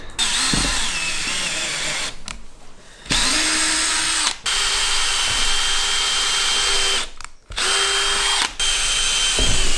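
A power drill drives screws through a plastic covering, mastic and a metal van roof into wood during a roof fan install on a Fiat Ducato van conversion, in several loud sustained whirring bursts separated by short pauses.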